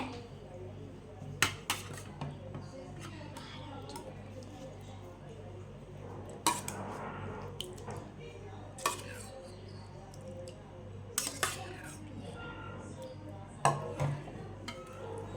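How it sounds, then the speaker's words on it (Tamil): A spoon stirs boiled sago and palm fruit in a bowl, making light, clinking scrapes and sharp taps against the side, with a voice talking quietly underneath. "ஸோ நெக்ஸ்ட்டு கொஞ்சம் நல்லா கிண்டிக்கோங்க."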